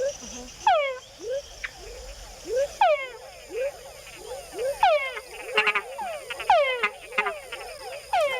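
Repeated calls of male frogs in Panama, each a rising whine followed by short chuck notes made to attract females, overlapping from several frogs, with faint insect chirping in the background.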